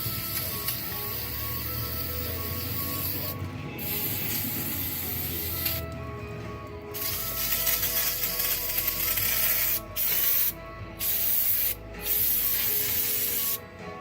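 Brake cleaner hisses in long, loud bursts from an aerosol can onto the caliper and bracket of a 2005 BMW 325i, with short pauses between sprays and several quick blasts near the end.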